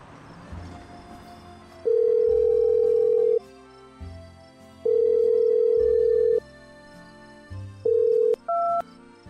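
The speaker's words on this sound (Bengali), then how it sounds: "ফেরবার পথে রিক ফোনে ধরল অন্তরাকে।" Telephone call effect in a Bengali audio drama: dialing tones, then a repeated steady ringback tone in long evenly spaced bursts over soft background music, ending with two shorter tones.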